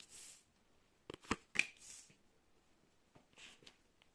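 A deck of pick-a-card cards being shuffled, a few short quiet riffling bursts and soft card slaps with gaps between, close and faint.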